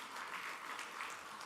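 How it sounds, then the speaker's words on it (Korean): A congregation at a Korean church service claps in thanks, a dense, even patter of many hands that lasts the whole short stretch without voices. "감사의 박수 드리겠습니다"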